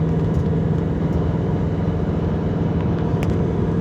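A Ford Mustang S550 fitted with an On3 top-mount twin-turbo kit, running on street tires, pulls hard under throttle, a loud, constant, dense engine roar heard from inside the car throughout.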